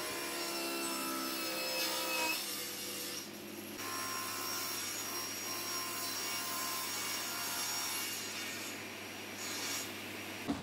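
A wooden board is cut along its four sides to make a square 20 cm tray base with a 20-degree angle: a close, continuous rasping saw sound with short breaks between cuts.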